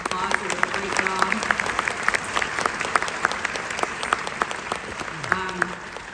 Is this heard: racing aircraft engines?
no